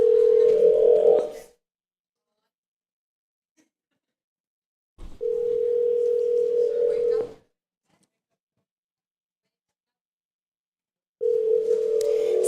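A telephone ringback tone while calling another number: three long, steady tone bursts separated by several seconds of silence, clear and close.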